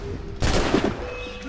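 A single sharp gunshot cracks out in Assassin's Creed Rogue, loud and close, after a moment of quiet game ambience.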